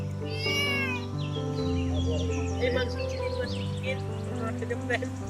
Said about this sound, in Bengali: আপনারা এখানে বিড়াল দেখতে পাচ্ছেন।